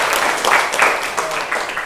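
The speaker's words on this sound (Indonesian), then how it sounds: "Tepuk tangannya." Students in a classroom give a short burst of applause at the end of a lesson, brisk and fairly loud clapping from many hands that fades slightly over its brief span.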